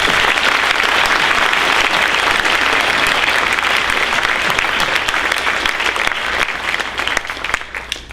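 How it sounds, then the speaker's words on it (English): Sustained applause for a chorus at an award ceremony, a dense steady wash of many hands clapping close up that carries on for about eight seconds before thinning slightly at the end. "I think we should give them a round of applause."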